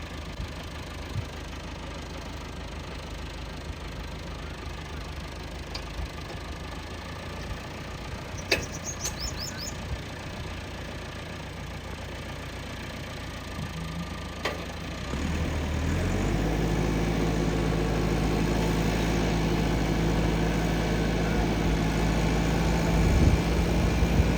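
A tractor that has just pulled free of mud idles at first, then its engine rises to a louder, steady low rumble, with no talking.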